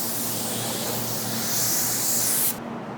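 Mini spray gun laying a recoat of automotive paint over a panel, a continuous loud hiss that swells slightly before cutting off sharply near the end, with a faint hum underneath.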